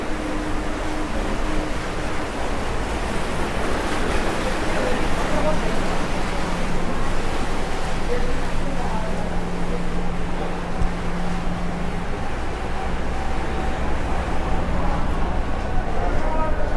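Jacuzzi bubbling in a solarium aboard the Royal Caribbean cruise ship Voyager of the Seas, a steady, loud broadband rush and churn of water that holds unbroken throughout with no clear break.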